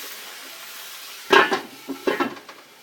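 A steak in a hot skillet gives off a low, quiet sizzle, then is flipped twice, causing two bursts of louder spattering and scraping.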